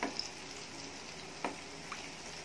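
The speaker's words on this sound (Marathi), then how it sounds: "झाऱ्याने आपल्याला अलगद असं तेल उडवायचं आहे" Malpua fries in oil as it is gently splashed with a slotted spoon, giving a soft, steady sizzle with a few light clinks and splashes.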